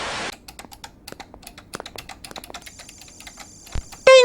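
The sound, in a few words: keyboard typing from video game Mario Teaches Typing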